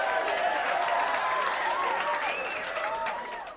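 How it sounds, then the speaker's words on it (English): Crowd cheering and applause sound effect, a dense wash of clapping and excited voices at a steady, loud level that thins slightly toward the end. "The crowd goes crazy."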